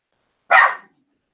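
One sharp dog bark, loud and close, stands out against silence with a quick onset and a short fading tail.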